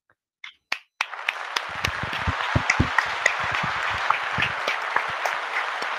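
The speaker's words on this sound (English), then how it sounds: "So we applaud Anthony Mackie." Applause from an audience at a virtual realtor conference and expo, starting with a few scattered claps and then swelling into steady, moderately loud clapping that carries on without talk.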